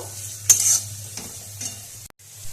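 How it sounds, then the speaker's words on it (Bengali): Grated, crushed garlic fries in a pan over a soft steady sizzle, with a few distinct stirring scrapes of a utensil, the first one loudest, and no talk. "এবার আমি এই যে থেতো করা গ্রেট করে নিয়েছি রসুনগুলো আমি তো এখানে মিশিয়ে দিচ্ছি। আবারও ভালোভাবে ভেজে নেব।"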